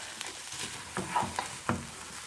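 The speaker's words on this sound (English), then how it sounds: "So stir the rice around for a few minutes until the rice is coated in the olive oil" Rice being stirred in olive oil in a pan for veg biryani, with a quiet steady sizzle and a few soft scraping knocks from the spoon.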